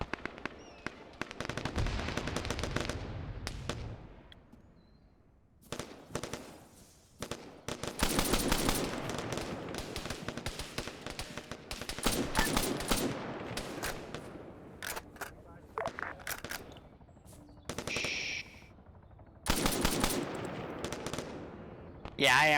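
Bursts of rapid automatic gunfire from hip firing in a military video game, several loud volleys separated by short pauses, with a voice talking over parts of it.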